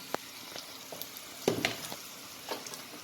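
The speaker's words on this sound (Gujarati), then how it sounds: "હવે આપણા મરચાં શેકાઈ ગયા એટલે હવે એમાં ચણાનો લોટ નાખશું" Roasted green chillies frying in a pan as gram flour is tipped in, steady sizzle with a few scraping stirs and one louder clatter near the middle, no talking.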